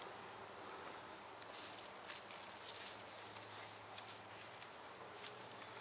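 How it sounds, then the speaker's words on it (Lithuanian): Calm honey bees hum around an open hive on a dull, overcast day, a faint, steady drone with a few brief louder passes, no talk. "Tikrai ramios bitės"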